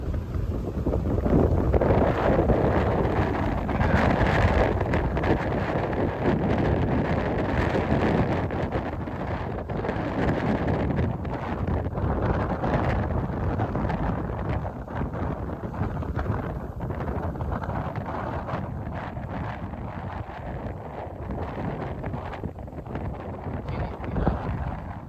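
Strong north wind blows across a beach dune, a steady, loud roaring rush that buffets close by for the whole stretch with no letup.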